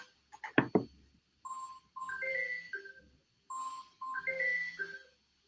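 A phone ringtone plays a short melodic electronic tune that repeats twice, fairly quiet and clear, preceded by a few sharp clicks.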